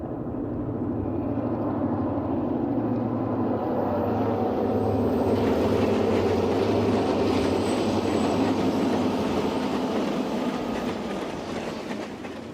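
Eastbound passenger train, the first section of Train 104 City of Los Angeles, rumbles past loudly with heavy low engine drone and steady wheel noise that swells and holds before easing off, no voices.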